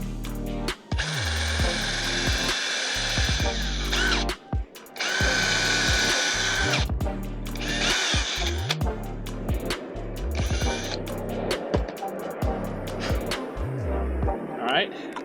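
A power drill whirs in repeated bursts, revving up and down as it bores into wood, with short pauses between holes and a voice talking in between.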